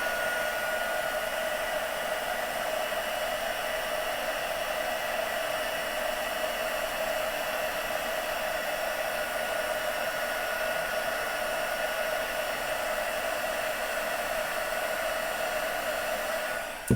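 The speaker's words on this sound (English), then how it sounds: "I'm just going to bring in my heating tool, and we're going to go ahead and melt that powder onto the Versamark ink." An embossing heat tool blows steadily and loudly for the whole stretch, melting embossing powder onto Versamark ink for a Christmas gift tag, a constant airy whoosh with no talk over it.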